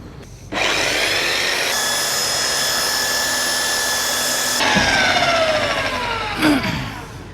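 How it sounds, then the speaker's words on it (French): Douglas fir being sanded hard with 60-grit paper on a power sander to strip chainsaw marks: a loud, continuous abrasive whine and scour that rises after a short start, holds steady, then shifts pitch before stopping. "je vais faire un gros ponçage à ce niveau-là pour enlever toutes les traces de tronçonneuse"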